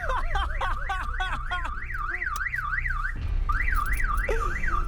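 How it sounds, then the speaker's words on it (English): A Lada Oka car alarm blares close and loud, cycling through rapid chirping bursts and a rising-falling warble that repeats steadily without pause. "And how to remove it from the alarm?"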